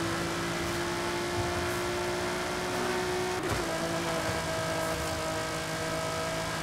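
A Nissan GT-R R35 Nismo accelerating in the racing game Forza Horizon, heard as a steady, loud, droning engine tone that holds at a high pitch with a brief shift partway through.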